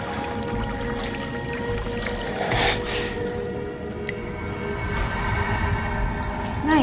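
Water pouring and trickling steadily in a sci-fi action film scene, a continuous splashing wash with a brief louder surge midway and a faint metallic ring, no voices over it.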